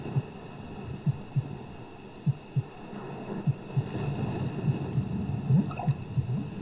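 Heartbeat sound effect from the horror video game The House, a low double-thump pulse repeating steadily about every half second over a dim, humming ambient background, with no talking.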